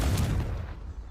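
A Confringo blasting spell fired in Hogwarts Legacy lands as a single loud, booming burst, with a rumbling low-end blast that fades out over about a second.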